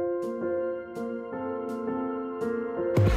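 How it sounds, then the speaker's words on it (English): Upbeat, happy stock music plays alone for a few seconds, a bright repeating chord pattern with regular soft percussive hits and sustained tonal lines, ending in a louder burst at the close. "if I type it in and I look for happy or inspiring, it starts off and it sounds like this."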